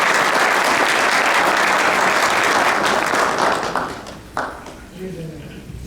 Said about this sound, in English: I would request you for one round of applause for these two men.